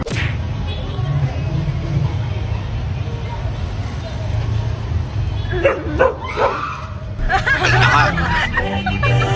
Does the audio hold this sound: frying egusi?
no